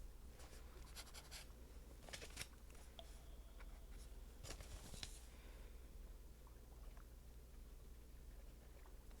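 Pen scratching in a notebook, a run of short faint strokes and scribbles over a steady low background hum, no talking.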